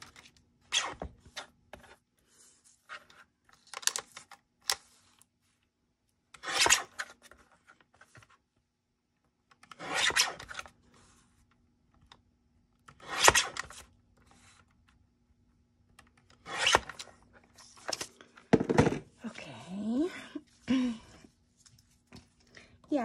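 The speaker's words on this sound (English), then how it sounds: "Cut the vellum." Vellum paper being cut in short separated bursts of crisp snipping and rustling, close and quiet between pauses, with a bit of paper handling near the end.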